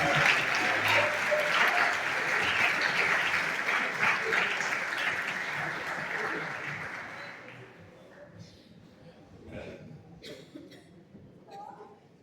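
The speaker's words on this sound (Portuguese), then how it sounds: "Você aplauda bem forte esse Deus Santo." Congregation applauding in a church during a holiness congress service in Nova Friburgo, a loud sustained wash of clapping that fades out over several seconds, leaving scattered voices and faint noises.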